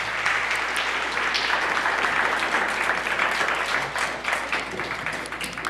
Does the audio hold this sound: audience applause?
yes